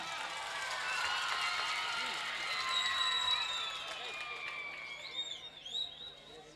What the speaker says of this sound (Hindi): और एक बार तालियां।